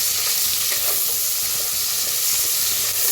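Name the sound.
sliced onions roasting with whole spices in a pan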